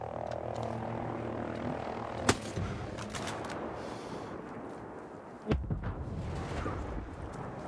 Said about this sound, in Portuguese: Helicóptero vindo, velho.